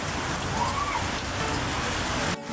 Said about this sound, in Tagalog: Lakas talaga ang ulan